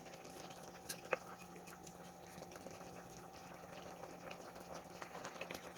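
Chicken with yogurt cooks in a pan, a faint, steady low bubbling and sizzle with small scattered pops, no voices.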